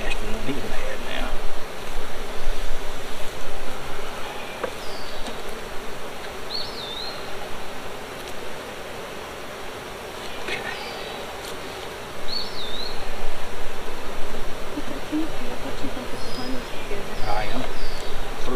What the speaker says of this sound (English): Ooh, with the bees on there.